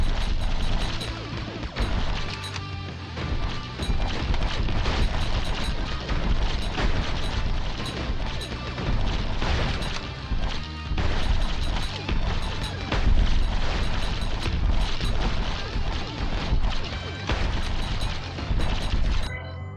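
Loud, dense explosions and mechanical clanking from an active armor detonation in a mech video game, with repeated booms layered over continuous busy game sound for the whole stretch.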